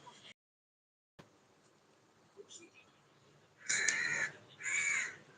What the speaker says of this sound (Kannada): ನೋಡಿ ಕಾಗೆ ಕರಿತಾ ಇದೆ